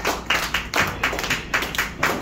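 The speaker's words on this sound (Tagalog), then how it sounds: "pwede ba natin bigyan ng isang malakas at may energy na palakpak ang ating Diyos na buhay?" Congregation clapping for God during a worship service, a quick run of sharp, rhythmic claps at an even pace, close and fairly loud, with no voices.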